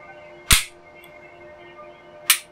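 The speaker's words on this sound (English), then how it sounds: "The striker does in fact drop." A Glock 19 striker drops on dry fire, giving two sharp, isolated clicks about two seconds apart, loud and close against a quiet background.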